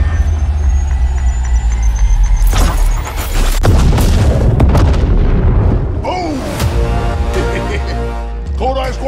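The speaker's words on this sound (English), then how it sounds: "Grenade." Grenade blast in Apex Legends, a heavy boom with debris and rumbling aftermath beneath game sound effects and voices talking.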